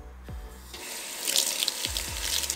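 A tap runs into a sink to rinse foaming hand soap off hands, a steady close splash lasting the whole stretch, with a few soft thumps under it.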